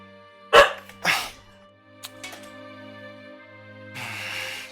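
A dog barks twice, loud and close, followed by a few softer clicks and sounds over a quiet electronic hum, with no one talking.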